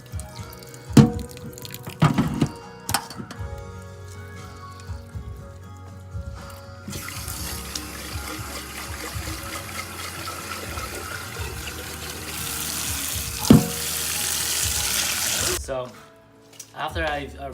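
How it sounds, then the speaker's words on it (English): Warm tap water runs in a kitchen sink as tapioca balls are rinsed: a long, steady rushing stream with a few knocks and splashes, while a voice talks over it. "So I'm just rinsing this with warm water."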